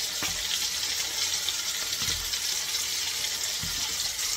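Prawns frying in a hot pan, with a steady, even sizzle holding throughout and a few faint clicks and knocks underneath.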